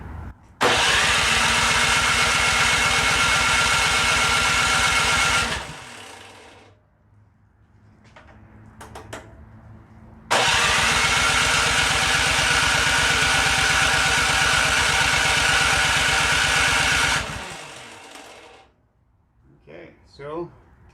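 A gas engine on an MTD Gold snow blower, choked with throttle up, starts loudly close by and runs steadily for about five seconds, dies, then restarts and runs roughly seven seconds before cutting out again.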